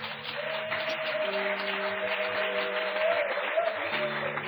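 A church congregation breaks into applause and cheers as Brother Isaac Ndoua steps forward, a moderate continuous clapping with tonal, music-like sounds running underneath.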